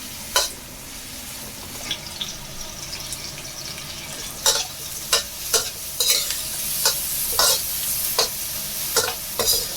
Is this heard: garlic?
yes